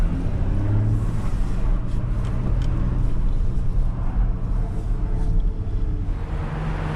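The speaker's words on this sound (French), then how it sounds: "Tout de suite l'échappement il est ouvert. Et là vous entendez la voiture avec une belle sonorité du coup." Porsche Cayenne Coupe Hybrid running in sport mode with its exhaust valves open, a loud, steady low-pitched exhaust rumble that holds throughout with slight swells.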